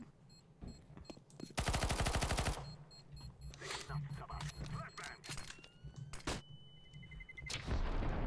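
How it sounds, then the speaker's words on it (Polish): A house blown up in GTA, a heavy burst of blasts and rattling gunfire-like booms in the middle, followed by crackling debris and scattered bangs under lively talk. "To był mocny wybuch jednak, wiesz?"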